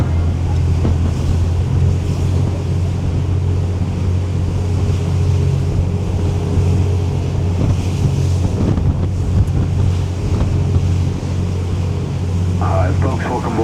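Boat engine drone under gusting wind buffeting the microphone and choppy water slapping against the hull, steady and close, with faint voices in the background.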